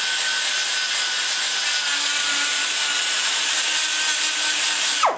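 Abrasive sanding with 200-grit paper after grinder work on a motorcycle engine combustion chamber gives a continuous loud, hissing rasp close up that cuts off abruptly at the end.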